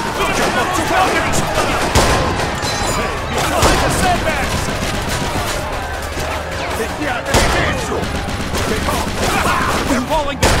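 Gunfire rattles in the Mafia II video game, a dense, loud stream of overlapping shots and bursts from many weapons that fills the whole stretch, with voices shouting over the battle.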